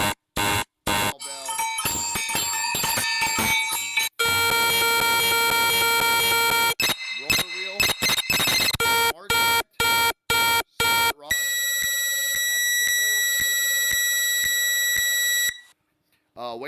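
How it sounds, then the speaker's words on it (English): A rapid series of loud electronic alert tones from a Tackobox Smart Connect Bluetooth fishing reel bite alarm: beeping, warbling and sustained tones switching from one pattern to the next with brief gaps. "So you have an alarm alert,"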